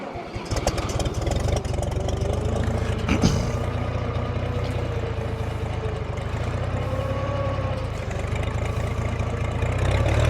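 A vintage tractor engine starts and settles into a steady, loud, rumbling idle before hay tedding, with continuous low-pitched throb throughout and a brief mechanical clank near the start.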